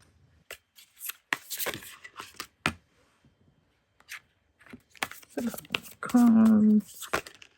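Tarot cards being shuffled in bursts of riffling and sliding, with a voice speaking briefly between the shuffles and a hummed tone near the end.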